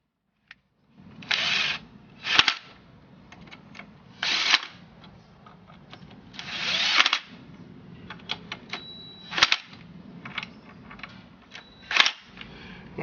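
A power tool driving the three screws on a Hummer steering plate, several loud bursts of whirring and rattling separated by short pauses and small clicks, close up and with no voices.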